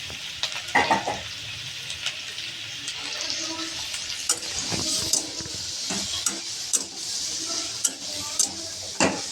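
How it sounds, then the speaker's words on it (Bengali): Washed dried lote fish and chopped onion stirred together in hot oil, with a steady close sizzle broken by repeated scraping and clinking of a utensil against the pan. "এবার আমি এগুলোকে সব একসঙ্গে তেলের মধ্যে নাড়িয়ে নেব"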